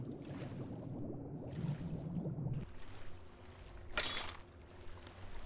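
Splashing and sloshing water from a character swimming in The Elder Scrolls IV: Oblivion, a steady watery churn with a louder splash burst near the end, no talk.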